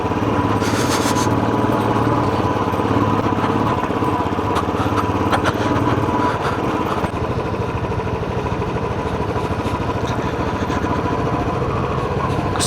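A motorcycle climbs a sunny mountain road that has black ice, its engine a loud, steady, close drone that holds throughout with slight changes in pitch.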